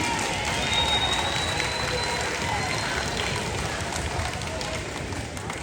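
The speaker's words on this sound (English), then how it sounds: "can you give your parents a round of applause" A steady roar of crowd applause at a school band performance fills the whole stretch, dense and sustained, with a cheering crowd noise underneath and no clear pause.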